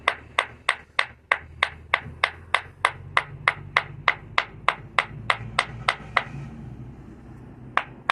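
Steady, sharp hammer strikes pecking at a stone battle axe head to shape it, around twenty evenly spaced ringing blows close up, a brief pause, then more hits, with no talking.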